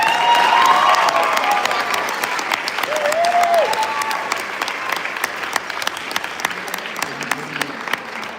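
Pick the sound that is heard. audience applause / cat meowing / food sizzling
audience applause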